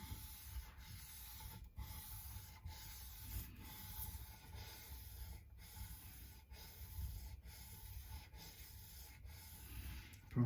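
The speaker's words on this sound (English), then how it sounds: "Probably could use some new sandpaper here, finally." Sandpaper rubbing back and forth on a part during an Epiphone Les Paul setup, a soft, close, rhythmic scraping in regular strokes about once a second, quiet and steady with no voices.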